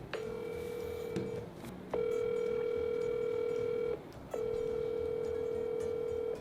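A WhatsApp call ringing tone on a phone, steady repeated tone bursts with short gaps between them, fairly clear and alone with no talk over it.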